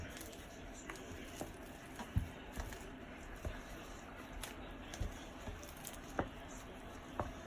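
Pie dough for a family meat pie being mixed, with soft, close squishing and light irregular pats and thuds at a low, steady level, no talking.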